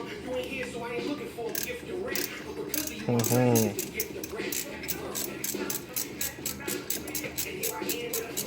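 Ratcheting wrench clicks in repeated bursts while a bolt is worked loose from a pulley puller on a Datsun, with metallic mechanical clatter throughout and a brief voice partway through.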